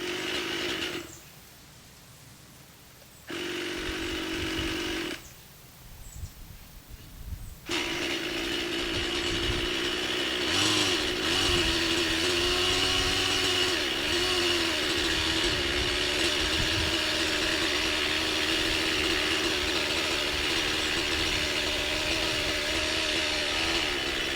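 A nitro engine on a T-Rex 600N RC helicopter buzzes with a raspy, chainsaw-like whine, cutting out twice early on before settling into a loud, steady run with slight pitch wavers.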